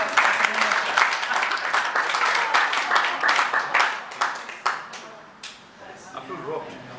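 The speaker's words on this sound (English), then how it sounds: "Please give them a nice round of applause." A magic-show audience in Cape Town gives a round of applause, loud crisp clapping that swells, then thins out toward the end with scattered claps and a faint voice underneath.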